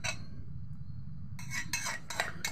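Chicken with ginger, garlic and chili is stirred in a pot in a North East Indian home kitchen, a utensil scraping and clinking against the metal in several quick strokes over a low cooking hum.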